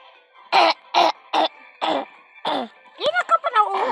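A person coughs about six times in a row, each cough loud, close and dry, before breaking into talk.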